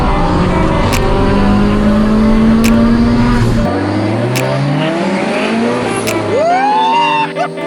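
Turbocharged Subaru BRZ with a loud exhaust racing a MK5 Supra, its engine droning steadily at high revs and then shifting down and climbing again, loud and close with wind noise and no talking.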